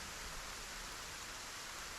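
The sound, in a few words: rain in the video game Lay of the Land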